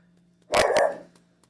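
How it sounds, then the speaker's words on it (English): A dog barks at another dog in a short, loud burst of two or three close barks that quickly fade into quiet, with no one talking. "Now she's barking at the other dog."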